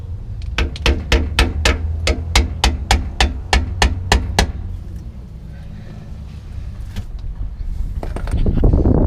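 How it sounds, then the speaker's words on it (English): Sharp metallic hammer blows strike a wedge against an LT1 rear differential cover, about fourteen quick evenly spaced hits, then a lull with faint shop noise and a soft rising rumble at the end. "we just gotta wedge something in there to crack this cover off"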